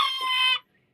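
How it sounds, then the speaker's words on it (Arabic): A rooster crows once, loud and close, in a backyard flock of chickens being raised. The bright, strained crow lasts about half a second and then cuts off into silence. "سامعين صوت الديك بقى يعزن."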